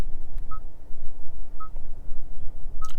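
A Kia K5 GT Line sounds its welcome chime as three short, clean electronic beeps spaced about a second apart, over a low background hum.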